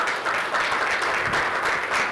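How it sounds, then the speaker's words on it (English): Audience applause at a corporate materials management event, a dense wash of clapping that swells and dips slightly, sustained and fairly loud for a couple of seconds. "we have to clap for ourselves"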